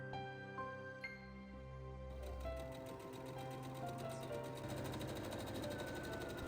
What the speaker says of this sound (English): I then sew the darts together in the bodice pieces.